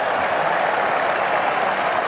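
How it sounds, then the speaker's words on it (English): Applause from a cricket Test crowd at The Oval in 1988 greets Robin Smith's half-century against the West Indies. The clapping is steady and continuous, with a distant, broad wash of many hands. "Robin Smith, who's now taking the applause for his half-century"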